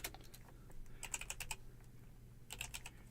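Typing on a computer keyboard: a quick run of soft close key clicks in short clusters, faint and alone, with no talk.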